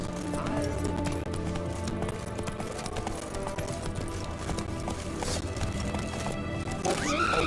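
Roach, Geralt's horse in The Witcher 3, gallops with rapid hoofbeats under game music and sound effects, and a short whinny comes near the end.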